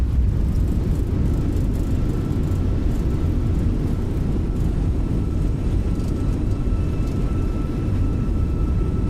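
A simulated airliner in Microsoft Flight Simulator 2020 rolls out after landing, its thrust reversers and brakes producing a loud, steady, broadband engine roar and rumble that holds evenly from start to finish, with no voices.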